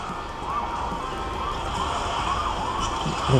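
A police car siren wails in a mobile racing game, a faint repeating rising-and-falling tone riding over a steady roar of engines and in-game racing noise.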